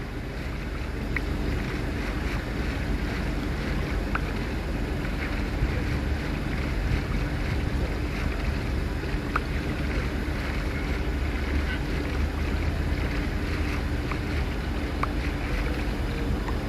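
Steady whooshing water and wind-like rush of a boat gliding across water in the game Minecraft Pocket Edition (Bedrock), continuous and even throughout with faint clicks on top and no talking.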